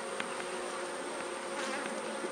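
Honeybees buzz at an opened hive from a drone-laying colony being strengthened, a steady dense hum of many insects close by without any talking.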